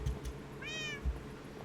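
Cats meowing in the Minecraft video game: a single rising-and-falling electronic meow sounds clearly at mid-distance over a steady low background hum, with a couple of soft thumps around it.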